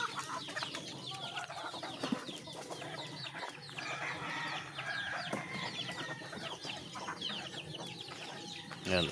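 Hens cluck and chatter continuously around their laying coop in a rural yard, with overlapping calls near and far and an occasional rooster-like cry mixed into the busy, steady flock noise.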